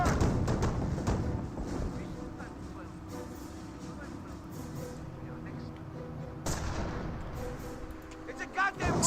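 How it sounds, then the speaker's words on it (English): Sniper rifle shots in the real-time strategy game Company of Heroes, a few sharp booming reports mixed into battlefield rumble, with someone talking over them throughout. "Sniper shots into the Volks Grenadiers."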